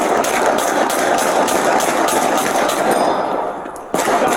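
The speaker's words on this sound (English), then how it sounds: "we hear more gunshots being fired" Loud, rapid bursts of gunfire rattle continuously, like automatic fire close by, during an NYPD officer-involved shooting in New York, before briefly dropping off and resuming with a sharp crack.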